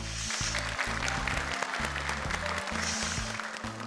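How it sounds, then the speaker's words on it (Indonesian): Audience applause for Kak Nabila Abdul Rahim on the Hafiz Indonesia show, a steady wash of clapping running under loud backing music. "Boleh tepuk tangan untuk Kak Nabila Abdul Rahim."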